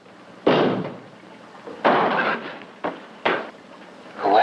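A door is struck in several separate heavy knocks or thumps, each with a short echoing tail, spaced unevenly in a quiet interior.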